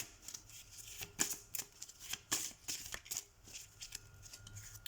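Tarot cards are shuffled and cut in a quick, rustling series of close, crisp riffles and slaps, with a brief pause between bursts.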